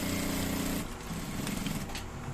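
A sewing machine runs a half-inch seam on boxers with a loud, steady motorized whir and rattle close up. The whir shifts to a slightly lighter, busier texture partway through.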